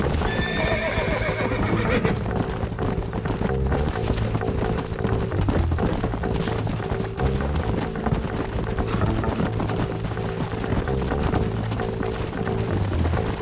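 Horses in the Red Dead Redemption video game: rapid galloping hoofbeats clip-clopping steadily throughout, with a loud whinny near the start, set against a low background hum and no talk.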